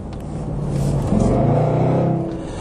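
Range Rover Overfinch SVR exhaust rumbles and swells as the engine revs up, holds, then eases back down, loud and close with a deep steady drone.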